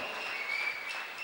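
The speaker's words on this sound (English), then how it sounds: "Come on, give this Jesus a clap." A congregation at a Bangalore church service claps together, a dense, steady wash of applause from many hands with no voices on top.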